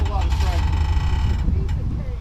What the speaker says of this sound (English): listen to old Raggedy Red creaking